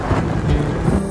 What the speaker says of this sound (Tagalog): kahit malakas yung hangin talaga, habang nagmumotor